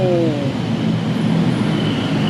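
A BTS Skytrain runs along the elevated track at Siam Paragon station in Bangkok, a loud, steady rumble and hiss of rail traffic that lasts the whole moment, with a brief tonal whine at the start.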